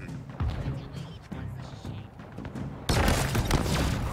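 Explosions and gunfire in the Halo Infinite video game on Xbox Series X, repeated booms and thuds building to a loud sustained blast near the end.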